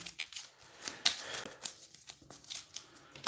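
Soft papery riffling and snapping of board game cards being shuffled by hand at a tabletop, quiet and close with irregular bursts.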